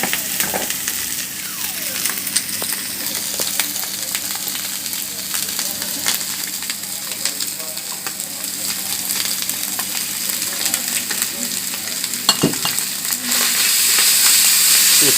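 Nasi goreng spesial fried and stirred in a wok at a long-running street stall in a narrow alley, with a steady close sizzle, scraping spatula strokes throughout and a sharp clang near the end.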